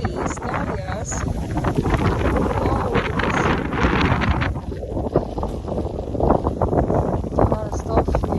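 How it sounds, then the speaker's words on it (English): Strong gusting wind buffets a garden where October lilies and dahlias are being cut, roaring steadily against the microphone with rustling surges throughout. "see it's very windy"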